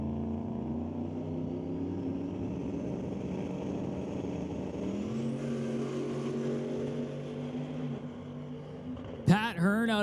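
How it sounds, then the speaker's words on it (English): Limited Street drag race car at a door-car drag racing event, rolling into the water box with a steady low engine drone that shifts pitch midway, under commentary, ending in a sudden loud burst. "Max Nielsen rolling into the water box."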